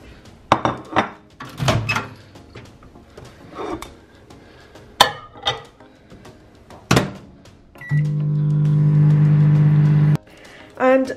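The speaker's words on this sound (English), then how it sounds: "I'm gonna pop this in the microwave for about 20 seconds" Kitchen sounds with clatter and thunks, then a microwave oven hums steadily for about two seconds while heating a chocolate pastry, followed by a beep, all close and fairly loud.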